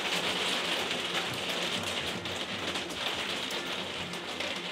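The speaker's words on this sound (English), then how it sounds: "Sorry about the rain, it's really annoying." Steady rain in a video game falls without a break, a dense hiss of drops on a surface, fairly soft and unchanging throughout.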